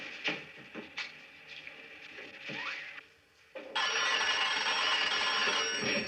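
Vintage telephone bell from a 1960s French film scene ringing continuously and loudly in the second half, after a stretch of quiet speech and room noise.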